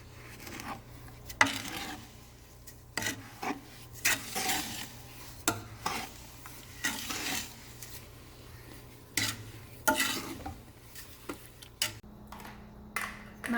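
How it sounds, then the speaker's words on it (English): Strawberry jam heats toward a boil in a pot, with irregular clicks and clinks of stirring against the pot and a faint simmering bubble underneath. "My jam's just about to boil"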